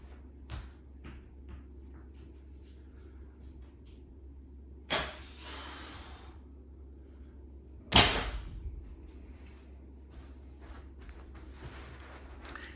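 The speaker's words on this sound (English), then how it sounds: "Now let's see what kind of noise we have when I do the deadlift." A barbell deadlift drops onto Yes4All Silencer drop pads with a sharp thud, then lands again about three seconds later with a louder, harder impact. Quiet hum and faint clatter fill the gaps.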